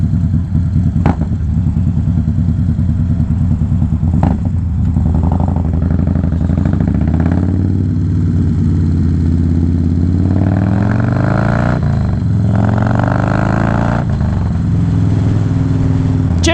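A Harley-Davidson-style motorcycle engine tuned with a Fuelpak 3 idles and revs loudly up close, a steady throbbing rumble with a few rising revs and clattering mechanical noise throughout.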